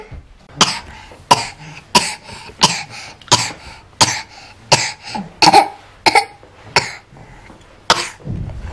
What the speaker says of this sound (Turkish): böyle bir öksürme şekli mi var ya arkadaşım?